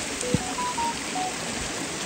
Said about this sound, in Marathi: बघा किती सुंदर प्रकारे वरून झऱ्याचं पाणी येतंय